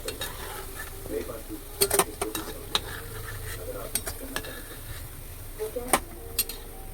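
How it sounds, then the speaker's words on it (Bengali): Bottle gourd kofta pakoras fry in a pan while being stirred, a soft steady sizzle broken by scattered sharp clinks and scrapes of the utensil against the pan, close by. "পকোড়া ভাজা হয়ে গেছে, এবার তুলে নেব।"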